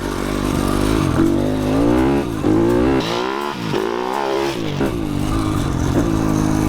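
A small dirt bike engine with a 34 mm carburettor and a 112 cc YCF kit revs up and down continuously, its pitch rising and falling in close, loud bursts.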